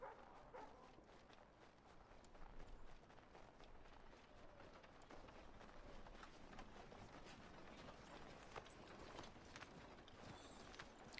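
Horse hooves clip-clopping at a steady gait in the Assassin's Creed 3 Remastered video game, a soft continuous patter of hoofbeats under faint background game ambience.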